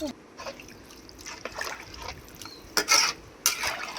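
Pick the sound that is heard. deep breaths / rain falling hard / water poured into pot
water poured into pot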